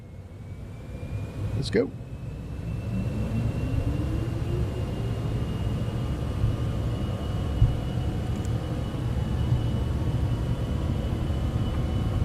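Citation X business jet engines spooling up for takeoff on the runway in Microsoft Flight Simulator 2024: a steady low roar with a slowly rising turbine whine building across the clip, a brief spoken phrase near the start.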